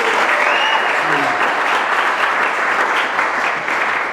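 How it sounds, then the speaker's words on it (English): An audience at a breakfast cooking event with a Masterchef winner gives a loud, sustained round of applause that holds steady for several seconds, with a brief voice over it early on. "We're gonna give you a round of applause."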